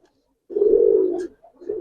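Long-feathered Jabra Giribaz pigeons in a loft give a close, clear coo lasting under a second, followed by the start of another low coo.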